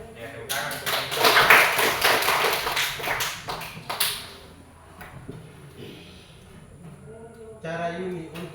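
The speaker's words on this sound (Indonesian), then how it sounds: "Ya, tepuk tangan untuk kami." A classroom group of students claps together in a quick burst of applause for their group, and voices are heard alongside and after the clapping.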